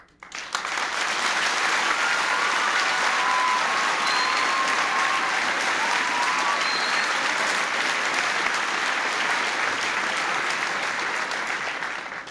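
An audience applauds steadily and loudly during a presidential visit to Framingham, a dense wash of many hands clapping at an even level for about twelve seconds before it tapers off. No one speaks.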